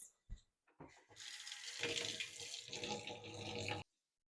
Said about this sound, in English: I'm going to fill each one with 2 quarts of hot water